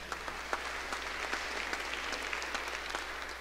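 A church congregation at a traditional worship service applauds for a couple's 50th wedding anniversary, a steady patter of clapping from a room of people, fairly soft and even throughout.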